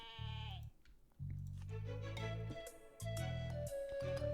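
Sheep in a farming card game bleat in repeated loud, wavering calls, one after another, layered over cheerful game music with bright chime notes.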